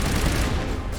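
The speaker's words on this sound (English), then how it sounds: "Okay, shotgun is not doing a lot of damage." A shotgun fires in Mass Effect 1, heard as a dense, loud one-second burst of crackling gunfire noise.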